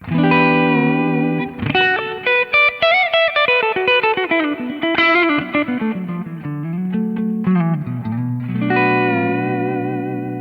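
Distorted electric guitar through a Kemper amp with EQ boost and added clarity plays a melodic lead with sustained notes, bright and clear with a touch of reverb, loud and alone.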